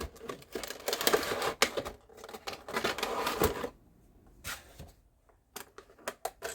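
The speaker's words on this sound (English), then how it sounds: "I decided to get out my box cutter so then I could just get the box open nicer" Box cutter slicing through the tape and cardboard of a doll blind box, heard as a run of close, scratchy cutting and tearing sounds with short sharp clicks, then sparser rustles and taps after a quiet gap.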